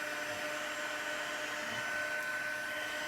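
A heat tool melting clear embossing powder on specialty foil paper, giving off a constant loud blowing whir that holds steady from start to finish with no talking.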